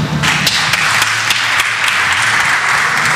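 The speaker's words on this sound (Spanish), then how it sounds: "un aplauso grande para Cristian." A loud, close burst of audience applause at an entrepreneurship night event, dense continuous clapping with individual sharp claps audible throughout, no talking.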